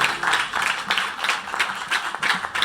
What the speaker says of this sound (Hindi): प्रेज गॉड, जोरदार तालियां जी।